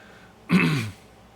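A single short throat-clearing cough from someone recovering from the flu, a brief raspy burst close to the mic in an otherwise quiet room.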